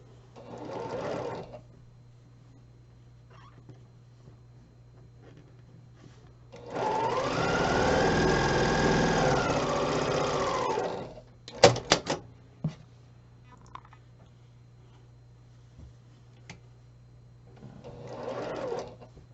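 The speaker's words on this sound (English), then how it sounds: "We're going to sew those together." A sewing machine stitches quilt block pieces together in one steady run of about four seconds, close and clear, framed by fabric handling and a few sharp clicks, with no talking.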